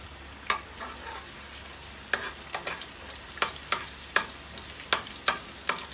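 Pork stir-fries with onion, tomato and sweet pepper, a steady sizzle punctuated by about a dozen sharp spatula clacks and scrapes against the pan, close up with no talking.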